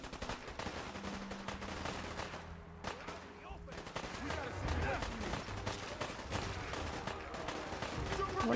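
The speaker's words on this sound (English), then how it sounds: "What are you firing at?" Steady, fairly quiet gunfire from the video game Fallout 4 on the Boston outskirts, rapid repeated shots running throughout with faint game sounds and voices mixed in.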